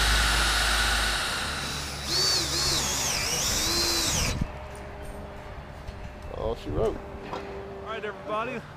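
A power drill whines loudly as it bores into steel square tubing on an enclosed work trailer, then cuts out halfway, leaving quieter background noise and someone speaking briefly.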